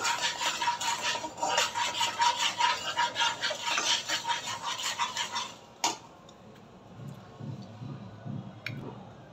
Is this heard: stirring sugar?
yes